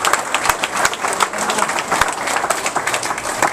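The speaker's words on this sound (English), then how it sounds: "Give her a big round of applause." A large crowd, including many young children, applauds a motivational speaker's talk with dense, steady clapping close by, holding strong for the full stretch.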